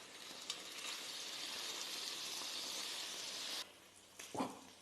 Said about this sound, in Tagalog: Iprito lang muna natin ito hanggang mag-brown na yung isang side na nasa ilalim.